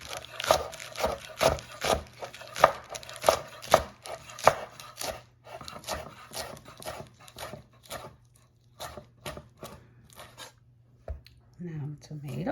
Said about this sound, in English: Cut up my lettuce. I'm going to shred it, actually.